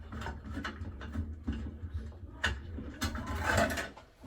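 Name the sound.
screwdriver being maneuvered while fitting a ceiling light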